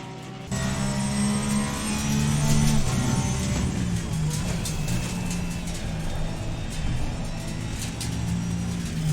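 Porsche GT3 race car engine in Assetto Corsa Competizione, a steady loud drone with strong low harmonics that shift pitch slightly as revs change, running alone and close throughout.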